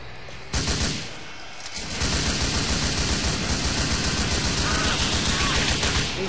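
Assault rifle fire in GTA 4 multiplayer: a sustained, loud, dense burst of rapid shots that starts abruptly and keeps on with only a short lull, close and harsh, with no clear talking.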